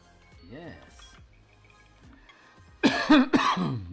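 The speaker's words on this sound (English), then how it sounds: "This cough is just killing me." A person coughs a few times in quick succession, close and loud, after quieter background talk and faint sounds.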